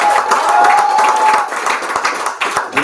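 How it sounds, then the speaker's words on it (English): Applause from an audience at a gathering, a brief loud wash of clapping hands blended with crowd noise and a thin tone early on, fading unevenly over a few seconds. "Give yourselves a round of applause."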